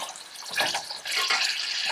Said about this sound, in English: So I got all this excess oil and grease. I'm going to pour this stuff out because I don't want it.